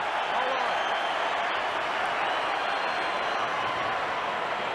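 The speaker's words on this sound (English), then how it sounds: "And you can hear the crowd" A rugby league stadium crowd at a Brisbane versus South Sydney match in 2003 roars in a dense, steady wash of cheering and clapping that holds at an even level throughout.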